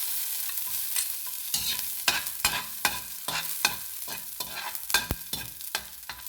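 Garlic sautéing in heated cooking oil for a mixed vegetable dish, with a soft background sizzle broken by repeated sharp scraping strokes of a utensil stirring in the pan at an uneven rhythm.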